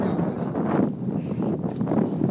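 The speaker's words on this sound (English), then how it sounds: "it's windy." Wind blowing on Wheeler Peak, a continuous low buffeting rumble against the microphone, loud and gusty throughout with no talk.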